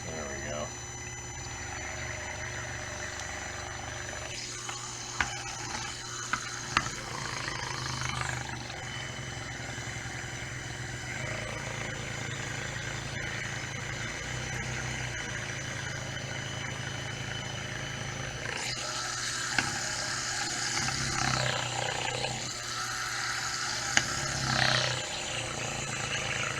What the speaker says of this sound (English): We're going to let that run for about 15-20 minutes, and what that does is it helps the brushes work in to get better contact.